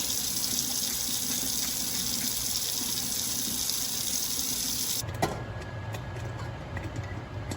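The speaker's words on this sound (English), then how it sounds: "I'm draining the rice." Water pouring out of a pot of rice being drained for jollof rice, a steady close hiss that cuts off suddenly, leaving a few small clinks and drips.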